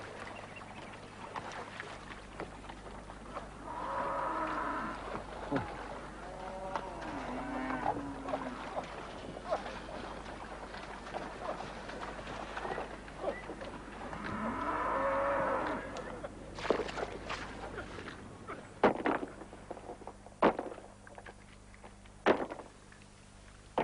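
Cattle moo several times, long drawn-out lowing calls at moderate distance, with scattered knocks and creaks in the background.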